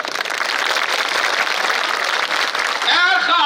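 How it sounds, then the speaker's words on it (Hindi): An audience claps at an all-India mushaira poetry recital, with dense, sustained applause filling most of the moment. It gives way near the end to a voice speaking over the fading claps. "जब तक सब ताली नहीं बजाओगे अगली लाइन नहीं पढ़ी जाएगी।"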